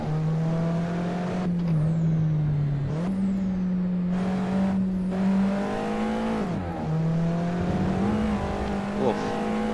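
An Alfa Romeo 4C drives a lap of the Nürburgring in a racing video game, its engine droning steadily and loudly, with a few rev dips and climbs through gear changes.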